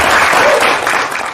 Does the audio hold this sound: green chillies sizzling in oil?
no